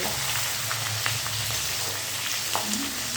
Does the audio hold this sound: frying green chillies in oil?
yes